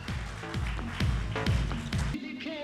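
Audience applause at a Taj Surajkund event, a dense run of clapping with sharp percussive hits through most of the stretch, cutting off near the end as a voice begins.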